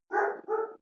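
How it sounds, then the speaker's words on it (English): Dog gives two quick, close barks in a row, loud and alone. "now my dog is barking."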